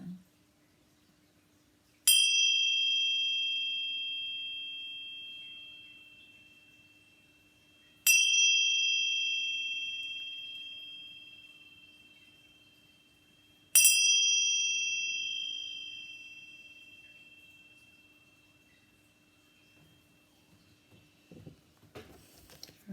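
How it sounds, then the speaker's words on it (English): A ringing chime is struck three times, evenly spaced about six seconds apart, each clear bright tone sustaining and slowly fading in a quiet room with a faint low hum. "Let's just chime these 3 times."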